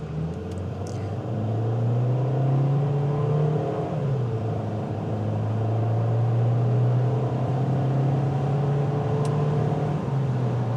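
A Volkswagen Taos SEL accelerates at a normal rate, its engine drone heard from inside the cabin as a steady hum that climbs and falls through the gears over continuous road rumble.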